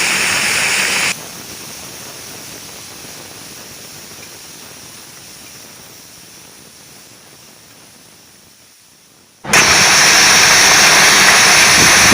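Curry leaves and chopped onion fry in hot oil, a loud, steady hiss that drops to a quieter sizzle fading lower over several seconds before a loud hiss abruptly returns.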